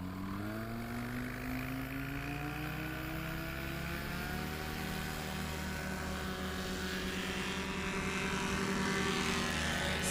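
Light aircraft lining up on a grass airstrip at a STOL practice event at Patriot Airpark, Oklahoma, its propeller engine droning steadily and loudly throughout, the pitch slowly rising as power builds.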